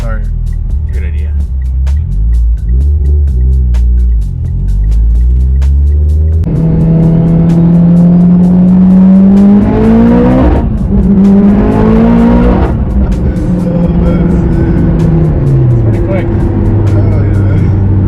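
A car engine starts and revs loudly, rising and falling in pitch, then settles into a rough, throaty idle close by.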